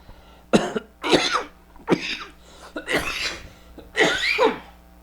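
During a lecture, a man coughs five times in a row. Each cough is a sharp, close burst, spaced roughly a second apart, with quiet breaths in between.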